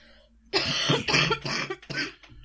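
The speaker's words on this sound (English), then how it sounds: "Oh, I'm going to cough." A short burst of several harsh coughs in quick succession, close and fairly loud, trailing off at the end.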